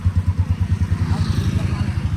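A motorcycle rides off along a road with a loud, close, rhythmic engine putter pulsing steadily throughout, while people talk nearby.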